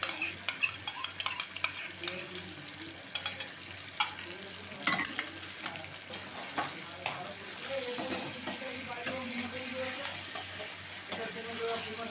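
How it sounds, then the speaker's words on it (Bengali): Beaten sour yogurt is stirred into fried mutton in a pan, with a steady sizzle under irregular scraping and clinking of a spoon against the pan, close and moderately quiet. "এবার ফেটিয়ে রাখা দইটা আমি এতে দিয়ে দিচ্ছি।"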